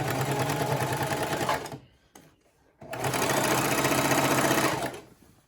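A Singer Classic sewing machine stitches heavy fabric while hemming pants, a loud rapid mechanical chatter close by that stops for about a second, then resumes and runs on before winding down.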